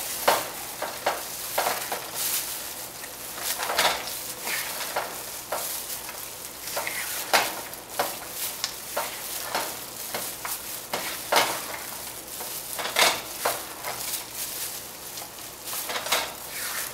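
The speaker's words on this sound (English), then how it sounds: "Give it a good stir." A spoon stirs cashews through thick chocolate fudge cake batter, giving repeated soft scraping and squelching strokes in an uneven rhythm, close and fairly quiet, with no talking.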